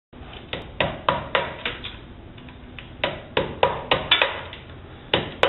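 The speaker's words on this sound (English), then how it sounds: "So here I'm just removing the old thin set." Chisel strikes knocking old thinset off a cement wall while prepping it for tile, a steady series of sharp close taps and chips, about a dozen blows in irregular rhythm with short ringing decays.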